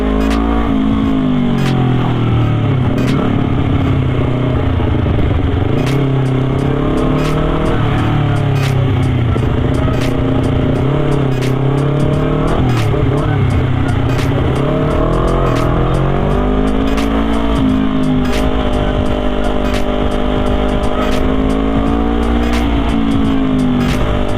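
Continuous loud engine drone with shifting revs from a Honda CBR250RR motorcycle ridden along a busy road, heavy wind rumble throughout and steady, up-close engine tone rising and falling.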